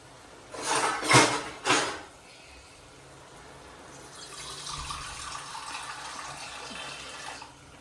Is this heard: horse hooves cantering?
no